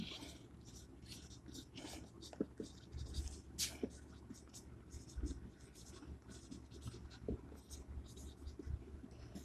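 Chalk or a marker scratches across a classroom board during an organic chemistry lesson, in faint, irregular strokes and taps with quiet room noise between them.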